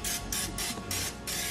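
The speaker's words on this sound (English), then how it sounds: "I'm going to spray this tart pan with vegetable oil like this" Several quick bursts of aerosol vegetable oil spray hiss close by onto a tart pan, separated by short gaps, with no talking.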